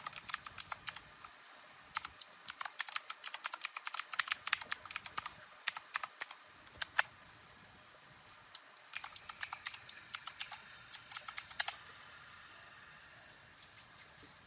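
Keys on a computer keyboard clatter in quick bursts as a username is typed into a Microsoft 365 login screen, close and crisp, with short pauses between runs and no talking.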